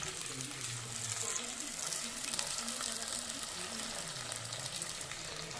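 Green chilies and onion sizzling in hot oil with mustard seeds and cumin for a fish curry, a steady close frying hiss running throughout with faint talk underneath.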